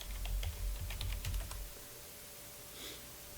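Password typed on a computer keyboard during a Linux desktop setup: a quick burst of close, crisp key clicks for about a second and a half, then quiet room tone.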